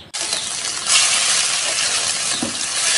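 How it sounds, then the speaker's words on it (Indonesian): Ground spice paste dropped into hot oil in a wok gives a loud, steady sizzle and hiss that runs unbroken through the whole stretch, with no voices. "Kemudian kita akan tambahkan sedikit minyak. Setelah ini kita akan masukkan bumbu yang sudah tadi kita haluskan."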